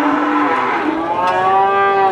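Cattle moo loudly and close by at a livestock calf market in Winong, one long drawn-out call with a wavering pitch, set against a steady background murmur of the market crowd.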